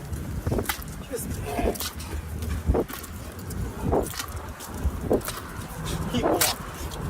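A border collie barks, yips and whimpers in repeated short bursts outdoors, while someone talks over it throughout and a car engine hums in the background.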